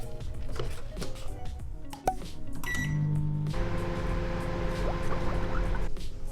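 A microwave oven hums steadily, with a low constant drone and a brief tonal whine, running alone without talk.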